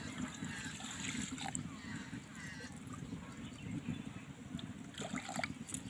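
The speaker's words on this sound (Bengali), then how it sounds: "এবার কড়ার মধ্যে দিয়ে দেবো জল।" Water pours into a wok (kadai) sitting on a lit stove, a soft continuous trickle and splash heard close but faint, with small clinks and a low background hum throughout.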